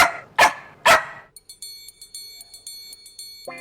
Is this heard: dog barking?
yes